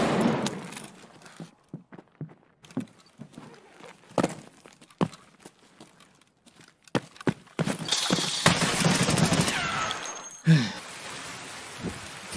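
Gunfire in the video game Escape from Tarkov: a long burst of sharp, separate shots that starts sparse and turns denser and louder, with a heavy blast near the end and the shooting tailing off.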